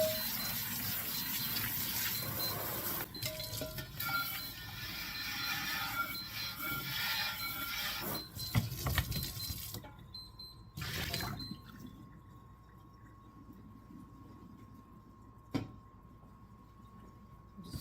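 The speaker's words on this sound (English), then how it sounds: "Rinse these off a little," Pinto beans rinsed under a running kitchen tap, a steady close gush of water with rubbing and rattling that stops partway, leaving a quiet room with a few handling clunks.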